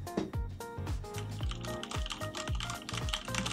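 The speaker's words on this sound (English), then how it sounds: "when I don't say anything and I type," Fingers typing on a computer keyboard at a streaming desk, a fast irregular clatter of close key clicks with no voice over it.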